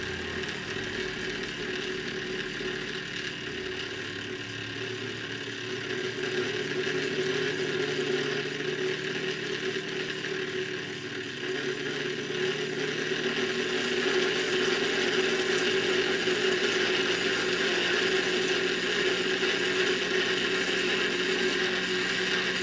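Homemade electronic motor driven by a PIC 12F675 microcontroller spins at speed, producing a steady high whine with strong tonal hum that rises slightly partway through, continuous and close with no voices.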